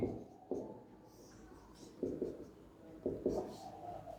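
A teacher writes a sentence during a Class 10 English grammar lesson on verb tense. Short, quiet scratchy strokes come in small bursts with pauses between them, and no one speaks.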